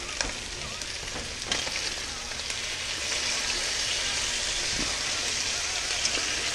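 Strips of bacon crackle and sizzle steadily in a hot pan during a big breakfast cook-up alongside hash browns, a dense continuous spatter with a few sharper pops, close and fairly loud.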